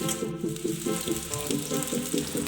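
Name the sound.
potatoes and pointed gourd frying in oil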